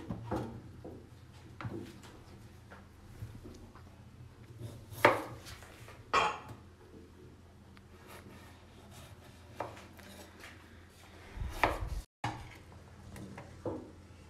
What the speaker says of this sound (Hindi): ये जी आलू अच्छी तरह काट लिए